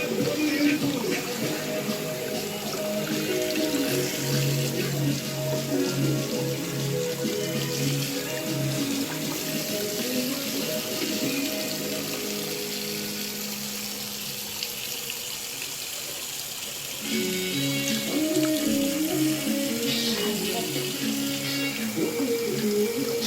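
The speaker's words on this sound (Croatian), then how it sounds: "Da ode ova vodurina." Water running and draining steadily while an Eheim Classic 250 aquarium canister pump is cleaned, a continuous splashing rush with a brief dip in level near the middle before it swells again.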